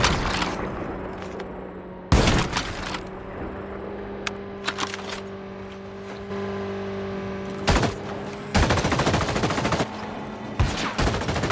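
M16 rifle fire in a shooting video game: several sharp bursts of automatic gunfire, loud and close, separated by quieter stretches with a steady engine-like hum underneath.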